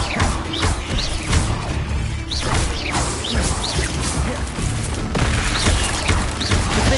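Confringo and Incendio spell blasts crack and burst repeatedly during a Hogwarts Legacy fight, loud explosive impacts and crashes in a busy, continuous din.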